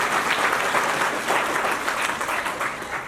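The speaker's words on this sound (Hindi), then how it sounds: "जोरदार तालियां आप बजा सकते हैं" Audience applause fills the room after a talk about Savitribai Phule: a steady, dense wash of many hands clapping at fairly close range, holding at an even level for the whole stretch without pause.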